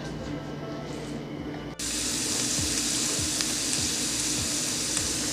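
Garlic fries in a pan on the stove while asparagus is being cooked, a sudden steady sizzle starting partway in and continuing loud and close with faint stirring taps.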